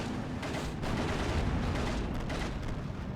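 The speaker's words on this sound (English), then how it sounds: "Infantry to the church, getting shot directly by mortars" Mortar rounds striking infantry near a church in the WWII strategy game Steel Division II, a dense, continuous rumble of blasts and gunfire with sharper bursts rising out of the din, loud and sustained throughout.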